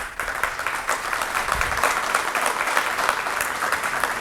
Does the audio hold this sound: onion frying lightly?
no